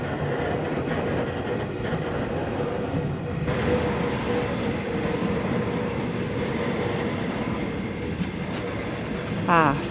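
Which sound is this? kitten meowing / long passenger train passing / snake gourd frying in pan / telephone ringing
long passenger train passing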